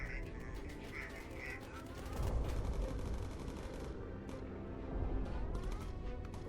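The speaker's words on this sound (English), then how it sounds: "somebody's shooting at me" Gunfire at a World War II bomber in the Bomber Crew game, rapid bursts of shots over a constant low engine drone, the firing coming in repeated clusters through the clip.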